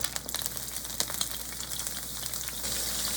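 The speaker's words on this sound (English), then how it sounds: "I put 1 shrimp because I want to wait till the oil gets hot, so I'll put the rest of the shrimp in" Shrimp frying in hot oil in a fry pan, a close, continuous crackling sizzle with scattered sharp pops, building slightly toward the end.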